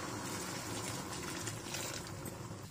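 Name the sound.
water being poured into spiced peas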